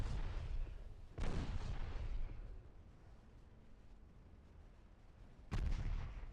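Naval guns fire in the warship strategy game Ultimate Admiral Dreadnoughts, three heavy booming salvos with rumbling tails over a continuous low battle roar.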